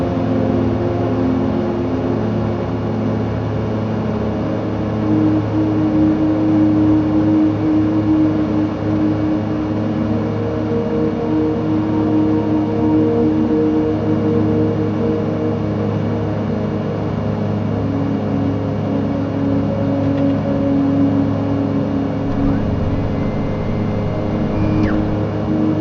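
A small airplane on landing approach over the Patagonia mountains, gear and flaps down, turning toward the runway; a steady, loud engine drone fills the cabin from start to finish with no break.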